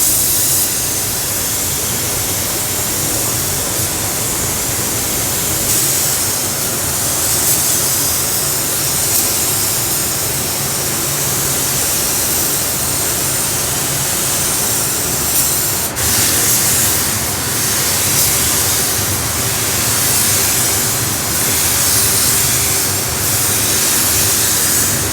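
Silver paint sprayed from a spray gun onto Lexus bumpers in a paint booth, a loud continuous hiss in repeated passes with brief pauses and a clear break midway, with no talking.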